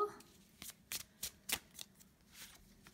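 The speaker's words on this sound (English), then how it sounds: "let's go ahead and get started with some oracle cards for you" Oracle cards are shuffled close up, giving a quick series of soft riffling snaps and flicks in an otherwise quiet room.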